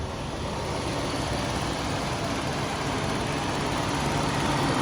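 A 2003 Toyota Kijang LSX engine idling, a steady even hum close to the microphone with no revving or change in pitch, and no talking over it.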